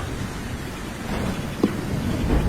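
Heavy rain pours through the night in a Hindi animated cartoon scene, a steady, dense hiss of downpour with a low rumble beneath, broken by one brief knock-like hit partway through.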